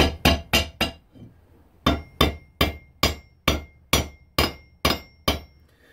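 A small hammer knocks chipped bits off the steel blade of a hybrid camp/Bowie knife: four quick sharp metallic strikes, a short pause, then a steady run of about eleven evenly spaced blows, loud and close.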